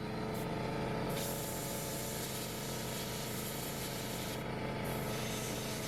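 Airbrush hissing out a steady spray of fluorescent magenta paint onto a handmade ultralight buzzbait lure, a continuous close broadband whoosh with brief pauses near the start and end, no talking.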